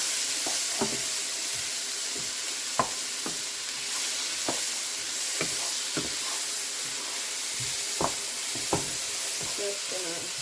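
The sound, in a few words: tomato frying in a pan while being stirred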